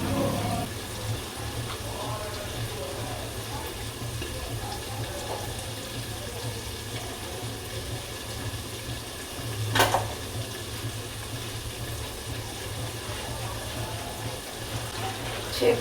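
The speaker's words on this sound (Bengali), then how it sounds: "চিনির রসে তো নোংরা থাকেই না, মানে মিষ্টির শিরা, সেটা একটু ছেঁকে দিলাম।" Sugar syrup is strained and poured in a continuous, even trickle that runs for the whole stretch, with a single louder clink partway through.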